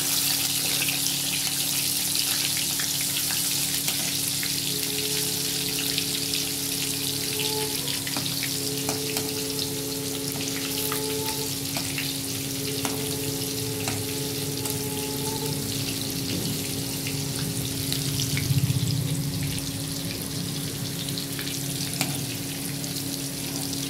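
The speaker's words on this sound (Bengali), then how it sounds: "ঝিঙেটাও ভেজে নেবো আগে" Pieces of ridge gourd fry in hot oil for a Bengali hilsa curry, giving a steady, close sizzling crackle that runs the whole time, with faint stirring and no speech.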